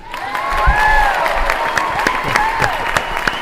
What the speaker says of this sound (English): let's give a round of applause with these two wonderful, amazing doctors